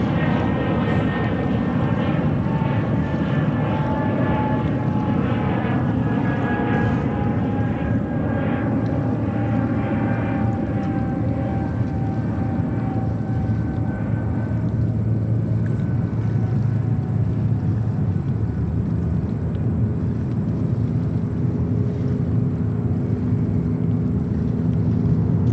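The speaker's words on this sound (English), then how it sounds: "And then we have Emirates 380 coming in 2-2." Emirates Airbus A380 on approach to land at JFK, a long steady jet roar with droning engine tones that slowly shift, continuous and moderately near, with no talk.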